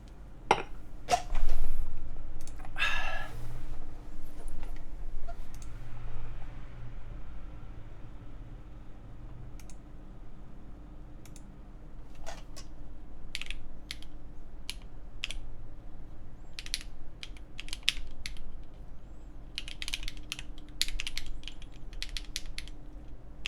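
Typing on a newly built ai03 Altair-X mechanical keyboard, with scattered key clicks and clacks in irregular bursts, a few louder rattles early on, then quicker runs of keystrokes toward the end.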